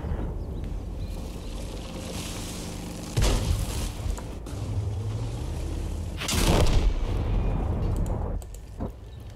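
Artillery fire in the tank battle video game World of Tanks, two heavy booming blasts several seconds apart over a low rumbling engine drone and wind-like noise.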